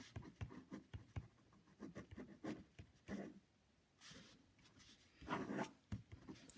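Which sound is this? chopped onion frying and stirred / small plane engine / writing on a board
writing on a board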